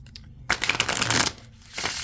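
A Light Seers Tarot deck is shuffled in two close, crisp bursts of riffling cards separated by a short pause, with no talking.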